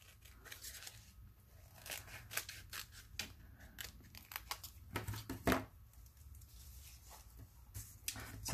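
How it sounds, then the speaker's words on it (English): Scissors snip and cut through paper for a Halloween junk journal, a run of quick close crisp cuts with light paper crinkling, at low level with no talk. "Let me cut that one out."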